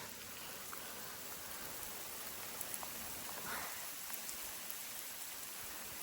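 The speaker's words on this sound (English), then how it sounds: "It's 51 degrees and it is pouring rain." Pouring rain on the Colorado Trail at 51 degrees, a steady, even hiss of heavy rainfall with scattered nearby drips and patters, fairly soft and continuous with no voices.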